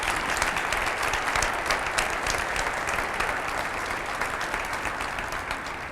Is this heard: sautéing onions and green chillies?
no